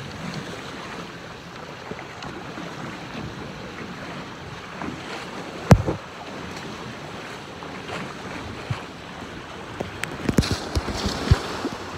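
Strong offshore wind and heavy swell around a Hobie 14 catamaran under full sail, a constant rough roar of gusts buffeting the microphone and rushing water, with sharper splashes and knocks toward the end.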